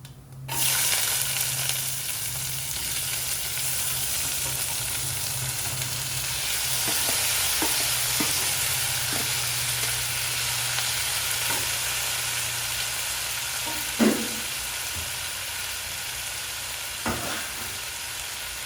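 Cumin and ajwain frying in hot oil with onion and tomato, a loud, steady sizzle that hisses continuously, broken by light scraping stirs and a few knocks of the spoon against the pan.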